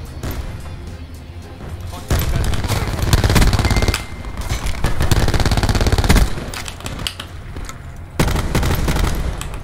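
Automatic rifle fire rattles through a Call of Duty Black Ops 4 match with the ABR 223 and a Spitfire, several loud close bursts of rapid shots separated by short pauses.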